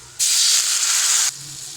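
Water poured into a hot pan of fried onion, garlic and ground spices bursts into a loud, even steam hiss that holds for about a second before cutting back to a quieter background.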